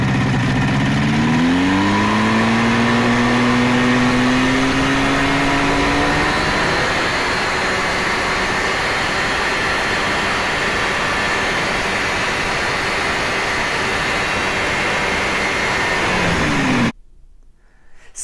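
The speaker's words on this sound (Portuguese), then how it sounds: "O motor Rotax de avião." A Rotax aircraft engine fitted in an Amazonas motorcycle runs close by, climbing in pitch early on and then holding a steady, buzzing drone for about fifteen seconds before cutting off abruptly near the end.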